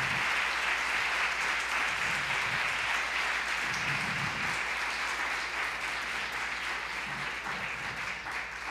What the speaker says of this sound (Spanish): os agradezco muchísimo los aplausos